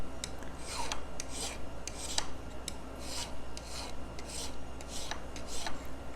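A metal file rasps over the soldered joint of a jewelry ring, removing excess solder in quick repeated close strokes, each a short scraping burst.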